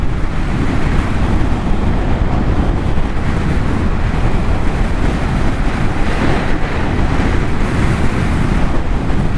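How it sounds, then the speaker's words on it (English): Heavy wind buffets a rider on a Honda CBR 300R motorbike with no wind protection, a loud, constant roaring rush of air that covers everything else. "Blasted by the wind, no wind protection."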